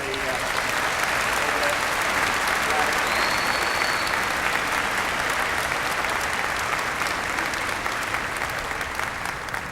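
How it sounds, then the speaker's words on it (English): Large crowd applauding at a university science convocation ceremony, a continuous dense patter of clapping heard from some distance, steady and fairly quiet throughout. "Let's give them a nice round of applause right here"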